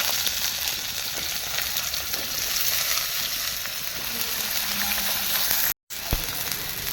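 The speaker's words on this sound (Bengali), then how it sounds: "এই তেলে আমি এবার বেগুনগুলো ভেজে নেবো" Brinjal pieces fry in hot oil for a Bengali rohu fish dish, producing a continuous dense sizzle close up, briefly cut off before resuming.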